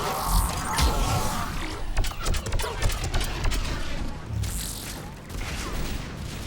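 Explosions and gunfire during a Mass Effect 3 mission on Tuchanka, with a dense stretch of rapid cracking shots and booming bursts that come in clusters at moderate loudness, easing briefly before picking up again.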